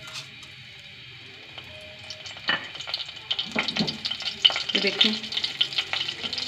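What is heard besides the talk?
cumin and curry leaves sizzling in oil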